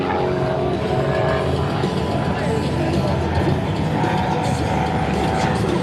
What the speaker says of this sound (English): Those aerobatic airplanes, the engines really do get hammered.